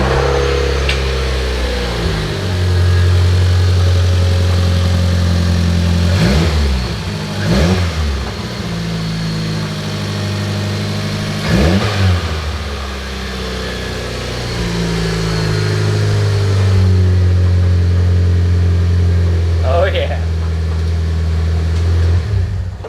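A Mitsubishi Lancer engine cranks and catches several times, then revs up and settles into a steady idle, loud and close, with no talking.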